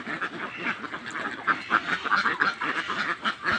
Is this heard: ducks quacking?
yes